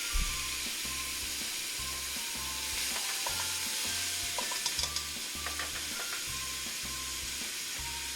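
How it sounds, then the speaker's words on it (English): Constant broad sizzle of onions frying in a pot, with scattered scraping and clinking from stirring, a low rhythmic hum running beneath. "So let's go ahead and add our onions."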